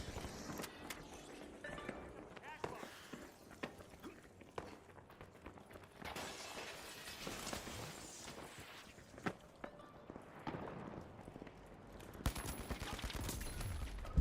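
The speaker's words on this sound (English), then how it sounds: "Okay, I'm shooting my own teammate." Gunfire in the video game The Finals, a player shooting at a teammate: a quiet, busy stretch of scattered shots and clattering footsteps, fairly faint throughout, with a louder burst near the end.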